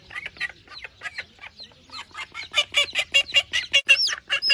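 An agitated mother duck calls with her ducklings in a rapid run of short, clipped calls that grow louder and faster, close by, with high thin peeps layered over them.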